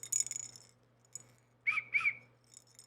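Whistles blown by people at a street protest against ICE activity, a few sharp shrill blasts with a pair of close, loud bursts near the end and fainter whistling earlier.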